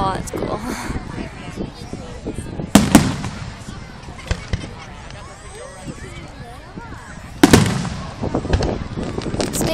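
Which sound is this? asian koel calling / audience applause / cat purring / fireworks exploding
fireworks exploding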